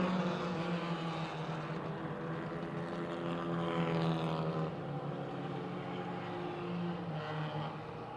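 Super Compact race cars roar together on a speedway during a heat race, their engines droning continuously with some rising and falling pitch as the pack runs door to door through a turn.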